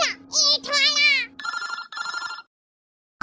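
A cartoon phone rings with a bright electronic ringtone, two buzzing bursts near the middle after an animated voice speaks, then silence.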